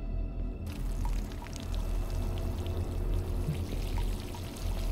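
Water pours steadily in a video game as a character waters household objects like a couch, a continuous rushing trickle with a low hum underneath, close and uninterrupted for several seconds.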